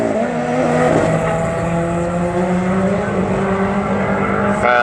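A Vauxhall Corsa front-wheel-drive drag car launches hard down an airfield strip at a drag racing event, engine roaring loud and close with rising revs across the whole run.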